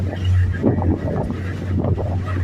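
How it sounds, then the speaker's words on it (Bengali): A boat travels across open blue sea off the Andaman Islands near Port Blair, with a steady low engine drone and rushing wind buffeting the microphone throughout. "আমাদের বোট এগিয়ে চলেছে নীল জলরাশির মধ্যে দিয়ে।"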